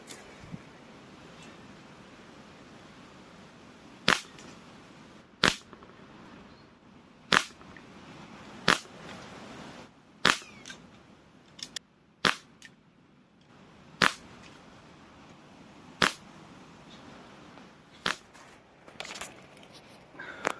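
Crosman 2240 air pistol firing a dozen or so sharp, crisp cracks spaced a second or two apart, close and fairly loud against a quiet outdoor background.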